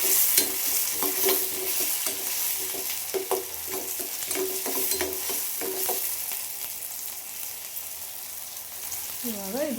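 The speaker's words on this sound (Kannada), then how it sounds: "ಇವಾಗ ಇದು ಚೆನ್ನಾಗಿ ಫ್ರೈ ಮಾಡ್ಕೊಬೇಕು." Onion and tomato fry in oil with a steady sizzle and a rhythmic series of spatula scrapes and taps against the pan. A faint sound near the end might be a voice.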